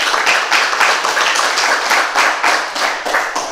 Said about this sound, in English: please, a round of applause for George